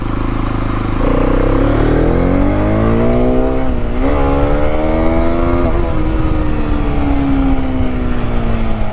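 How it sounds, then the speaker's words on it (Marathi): A motorbike rides on a sandy beach, its engine loud and close as it revs up and holds a rising, wavering drone throughout, with no talk. "मित्रांनो बीचला गाडी चालवणार आहे मी आता."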